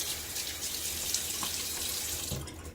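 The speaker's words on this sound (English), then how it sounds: "a little splash on my face" Tap water runs steadily into a sink and is splashed up onto a face at a shaving basin, a continuous close wash of water with soft splashes throughout.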